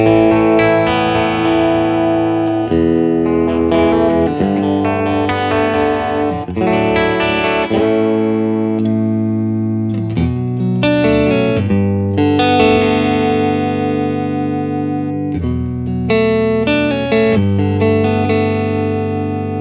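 Electric guitar played through the Morgan side of a Synergy vacuum-tube amp module, a chimey, full, continuous passage of strummed chords and notes with steady loudness and no talk.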